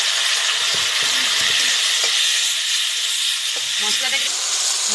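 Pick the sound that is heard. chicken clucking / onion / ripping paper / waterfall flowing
onion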